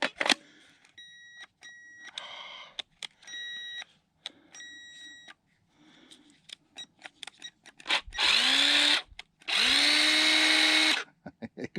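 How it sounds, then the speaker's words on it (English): A power wrench works on the lug nuts of a tire at an off-grid homestead in Montana, giving two long, loud whirring bursts near the end after scattered clicks and short beeps. "if I could have an impact wrench to be able to remove the lug nuts off the tire"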